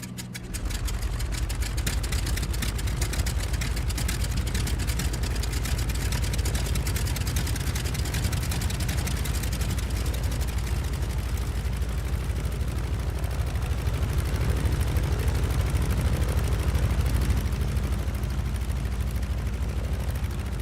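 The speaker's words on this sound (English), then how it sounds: "we're gonna start up the left engine, which is just booster, then starter" The left radial engine of a Beechcraft Model 18 in Microsoft Flight Simulator starts and settles into a steady, loud, rumbling run that fills the whole stretch, with no talk.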